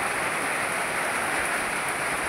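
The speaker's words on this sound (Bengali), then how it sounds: "দেখুন কত বৃষ্টি হচ্ছে।" Heavy rain falls outside during a hot day after strong wind, a steady dense hiss of drops close by, continuous and even with no talking.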